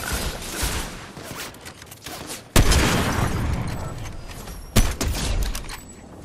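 Gunfire in the Fortnite video game, with sharp loud shots ringing out at about 2.6 and 4.8 seconds above a steady bed of rustling and movement, with scattered smaller pops in between.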